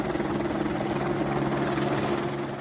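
A helicopter flying residents up to the mountain village of Monteviasco in Italy's Prealps drones loudly and steadily, its rotor chop forming a continuous, close, throbbing roar.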